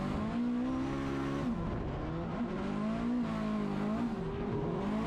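A drift car thrown into a corner on the handbrake, its engine revving with shifting pitch while tires squeal and skid through the slide, loud and sustained without voices.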